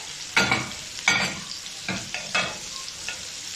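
Chicken breast pieces fry in melted butter with a constant low sizzle, broken by several sharp bursts of louder crackling as the pieces are stirred and turned in the pan.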